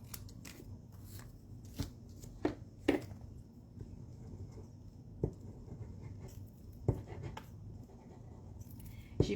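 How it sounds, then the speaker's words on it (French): Scissors snip through card paper in a series of short, crisp cuts spaced irregularly, with quiet rustling of the sheet between them, close and soft. "Là, je vais le couper au ciseau"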